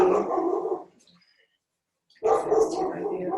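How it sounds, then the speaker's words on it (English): A neighbor's dog barks in the distance outdoors, faint under calm speech from a yoga instructor, who pauses briefly between phrases. "some extra neighbor dog"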